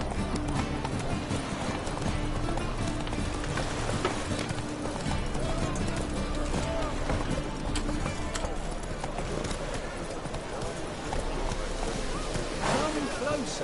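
Roach the horse gallops in a video game, with rapid rhythmic hoofbeats running steadily under a busy layer of game sound and effects throughout.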